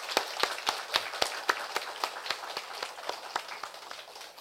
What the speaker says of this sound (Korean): 이 찬양대를 격려하는 의미로 우리 박수로